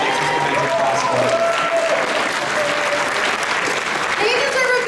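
An audience at the Ponyville Ciderfest 2022 convention closing ceremonies applauds its sponsors: dense, loud, continuous clapping and crowd noise filling the whole stretch, with voices and tonal sounds mixed in underneath.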